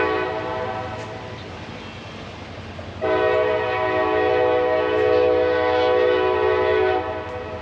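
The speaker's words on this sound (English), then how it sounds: "You can hear the train out in the distance" A train passing some way off near San Angelo, Texas, a steady rumble joined partway through by a long, sustained horn blast, moderately loud, with no one speaking.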